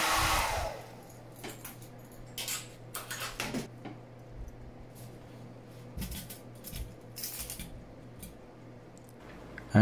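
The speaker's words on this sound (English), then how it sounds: "using a high-tech piece of drying equipment here, highly specialised" Hair dryer blowing steadily to dry freshly cleaned watch parts after ultrasonic cleaning, a continuous airy hiss with small clicks and taps of metal parts over it.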